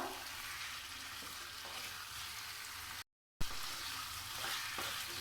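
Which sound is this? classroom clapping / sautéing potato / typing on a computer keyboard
sautéing potato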